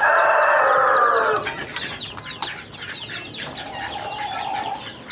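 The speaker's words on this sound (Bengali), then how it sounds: "এই যে দেখেন ফার্মি মুরগির বাচ্চা কত সুন্দর।" Farm broiler chickens and chicks fill a shed with sound: a long, loud crowing call opens, then busy clucking and chirps follow close by, with no voices.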